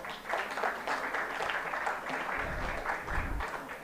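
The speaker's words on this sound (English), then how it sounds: "so huge applause to all of them" Audience applause at a conference inauguration, a steady patter of many hands clapping in a hall, moderately loud and sustained for a few seconds.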